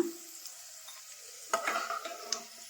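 Peanuts fry in hot oil for North Karnataka girmit, a close, steady sizzle joined by short bursts of scraping and stirring clatter in the second half.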